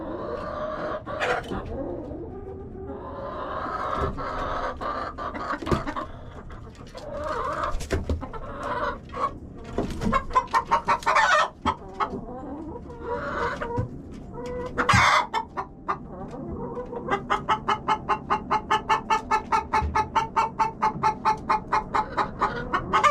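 Hens in nesting boxes cluck and squawk up close while being pecked and chased out by an egg-eating hen, with scuffling, a loud agitated cry and a fast, steady run of rhythmic clucking at the end.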